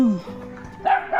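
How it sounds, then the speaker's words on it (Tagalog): A dog barks briefly nearby, giving a couple of short yelps within about a second, with a person talking around it. "Ayan kung may aso."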